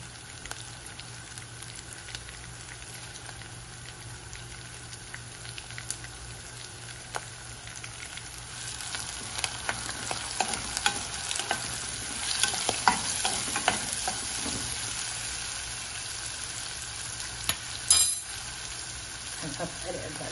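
Shrimp heads frying with onion in a pan as the base for a shrimp stock, a steady soft sizzle with occasional stirring clinks growing busier toward the end, no talking.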